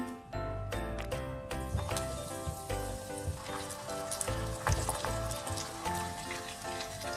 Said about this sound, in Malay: Okey, jom kita goreng.